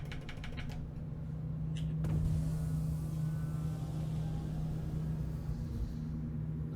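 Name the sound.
spaceship landing gear deploying in the video game Star Citizen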